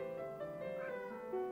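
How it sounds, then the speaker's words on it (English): A house cat meowing in a drawn-out, wavering tone, fairly close and clear, with a brief louder rise near the end and no talk. "My cat's meowing."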